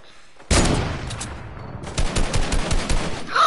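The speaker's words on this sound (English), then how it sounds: "try to snipe with Teta. Just shoot him down" Gunfire in a PS4 shooter game: a loud burst starts suddenly, followed by rapid repeated shots in quick bursts, close and punchy, with no talk over it.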